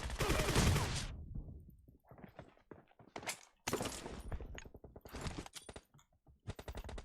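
Shotgun fire in a video game comes as loud, sharp bursts of shots separated by short silences, with rapid cracking volleys that repeat several times.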